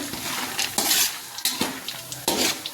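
Peanuts fry in a little oil in a pan, crackling and sizzling steadily while a spatula scrapes through them in three or four loud, brisk stirring strokes.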